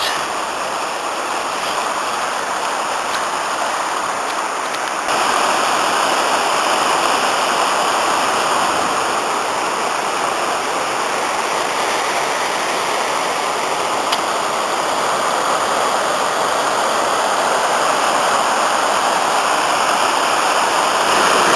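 River rapids rushing through Aberglaslyn gorge, dropping steeply toward sea level: a loud, steady, broadband roar of churning whitewater close by, unbroken throughout with no voices.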